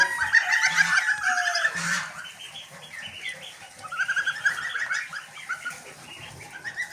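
Muscovy ducks on a home poultry yard call in bursts of breathy, hissing-edged cries alongside other fowl, loud at first, then a quieter lull and a second cluster of calls.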